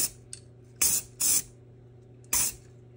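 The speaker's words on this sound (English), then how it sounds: "So I'm just gonna get a real light spray" Spray paint can laying a light coat on a taped-off glass piece in a small paint booth: three short hissing bursts plus a couple of faint taps, close and loud against a low background hum.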